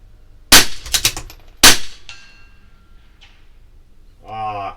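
A CZ 457 LRP bolt-action rifle fires two loud, sharp shots about a second apart, with brief echoing tails and a quick bolt clatter between them, followed by a short spoken voice.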